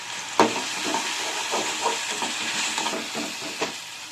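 Onions sautéing in a pan for a mushroom and baby corn gravy, a steady soft sizzle with a faint stirring scrape, opened by one sharp clink of a utensil.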